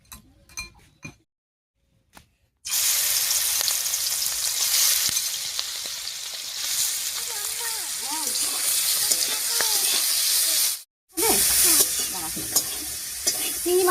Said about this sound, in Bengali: তেল গরম হয়ে গেছে, এবারে চিংড়ি মাছটা দিয়ে দিচ্ছি।